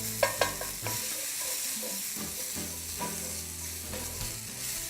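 A pinch of garlic hits a hot pan of Hamakua mushrooms and sizzles steadily, broken by a few sharp clinks and scraping stir strokes up close.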